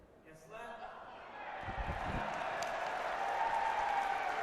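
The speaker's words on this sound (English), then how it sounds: "the crowd cheering at the referee's decision" A squash crowd at the Tournament of Champions cheering and applauding a referee's decision, the clapping and shouting rising and swelling in a large hall after a few thuds.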